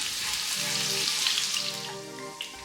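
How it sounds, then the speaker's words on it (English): Garlic sautéing in hot oil in a pan, a steady soft sizzle and crackle with faint kitchen background tones, fairly quiet and continuous. "In a pan, I heated oil, then sauteed garlic until golden."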